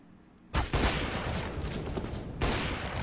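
Loud burst of gunfire from a Counter-Strike match on the Inferno map, a sustained rattling volley of shots starting abruptly after a quiet moment, with a second surge of firing near the end.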